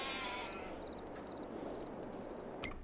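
Sheep in a pen in Farming Simulator 22, a few faint bleats over a low, steady background hum, soft and somewhat distant.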